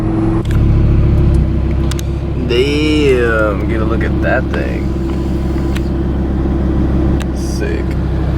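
A dually pickup truck with a full straight pipe exhaust, towing a trailer, idles and rumbles with a deep, loud, steady drone throughout while someone talks over it.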